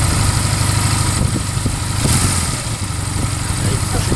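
A motorcycle engine idles and labours as the clutch is eased out and starts to grab during a beginner's first ride, a steady, throbbing mid-pitched rumble close by with small pulses in it.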